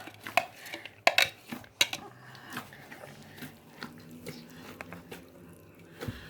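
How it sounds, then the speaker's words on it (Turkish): Onions being chopped very finely with a knife on a board for a Turkish manti filling, with sharp irregular knife strikes close by and faint kitchen clatter in between. "Bu kadar incelikte soğanları kıyacağız bakın varla yok gibi bayağı ince oldu."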